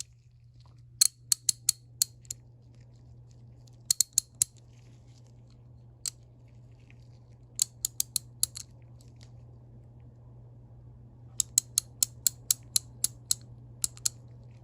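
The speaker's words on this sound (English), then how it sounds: "This is what the mechanism looks like when it's ratcheting." Kobalt 3/8 drive quick release ratchet, its gear and pawl clicking in quick sharp bursts of several ticks each, close and crisp over a faint steady hum.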